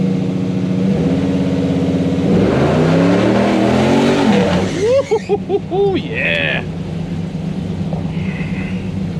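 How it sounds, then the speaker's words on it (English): A 1996 Impala SS V8 with a 6.0 engine, stage 4 cam and 3800 stall converter revs hard and launches away, its pitch climbing through gear changes, with a person whooping and cheering over the roar. "I'm gonna stall it up a little bit and take off and see what it does."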